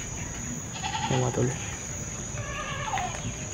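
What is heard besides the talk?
goats bleating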